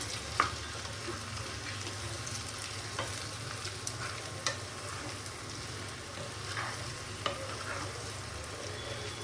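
Salted potatoes fry in a pan with a soft, steady sizzle as they are stirred, with occasional light scrapes and clicks of the spoon against the pan, quiet and close, and no talking.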